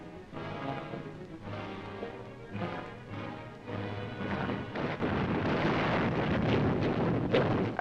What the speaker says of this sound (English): As night fell, our artillery opened up